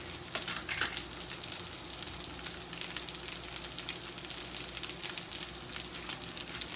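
Leftover beef sizzles and crackles in a hot pan of fried rice, a steady, close frying hiss with occasional stirring scrapes, no talking.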